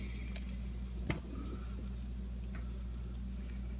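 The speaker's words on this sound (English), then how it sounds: "She's sizzling." Soft, steady sizzling crackle from a keto pizza cooking in a hot oven, continuous and fairly quiet, with a brief louder pop near the start.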